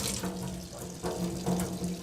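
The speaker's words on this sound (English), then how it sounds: "This is underground water." Groundwater pouring steadily into a basin at a shack, a close, continuous splashing rush of water with slight surges throughout.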